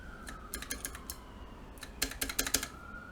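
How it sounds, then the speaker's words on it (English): A rattly space bar on a mechanical keyboard, a rebuilt carbon fiber LJD61u, tapped in short irregular clusters of clacky, rattling key strikes, quiet and close. "Such a rattly space bar. Why does it rattle so much?"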